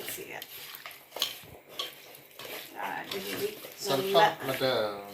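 A salted Mandeli fish mixture for rava fry is stirred in a bowl, producing soft wet squishing and clinks of a utensil against the dish while a person talks over it.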